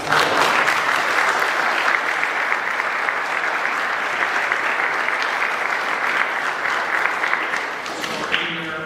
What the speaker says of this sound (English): think they deserve another round of applause